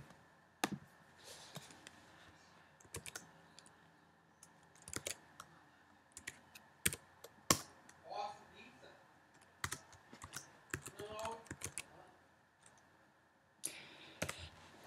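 Code being typed on a computer keyboard in Xcode, a quiet, close run of irregular key clicks and taps in short bursts across the whole stretch, with faint talking.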